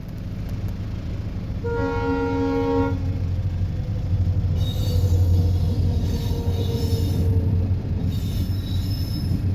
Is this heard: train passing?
yes